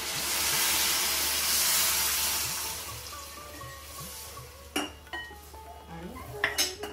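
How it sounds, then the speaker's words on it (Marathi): Hot water is poured into a pan of cooking brinjal curry for a Khandeshi meal, giving a loud steady hiss and sizzle that fades, followed by sharp metallic clinks of a utensil against the pan. "मी आता गरम पाणी टाकते."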